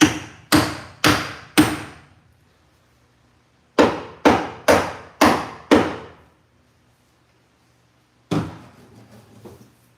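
Sharp hammer blows drive nails in two quick sets of four and five, close and ringing, followed by one more hit after a pause.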